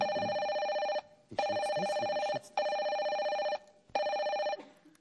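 A telephone rings in four evenly spaced electronic bursts, each about a second long with short gaps between, fairly close and alone with no talk.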